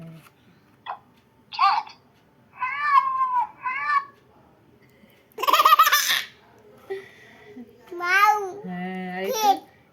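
An electronic cat meow from a talking flashcard gadget sounds among a small child's babbling and giggles, with short bursts of chatter and laughter around it.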